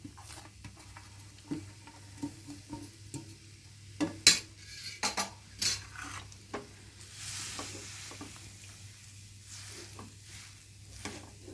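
A spoon stirs dates and roasted dry fruits in a pan for dry fruit laddus, giving a series of soft scrapes and knocks over a faint sizzle and low background hum, with no one talking.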